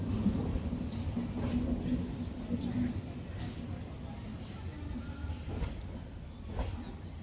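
A KSR Bengaluru–Kolar MEMU train pulls out of the station with a steady low rumble and faint rail clatter throughout, while people talk over it.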